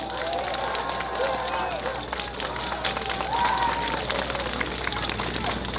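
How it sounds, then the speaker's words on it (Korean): Outdoor crowd at a People Power Party campaign rally in Nampo-dong, Busan, applauding and cheering in a steady wash over a continuous background hum, with some voices mixed in. "크게 박수를 보내주시기를 바랍니다."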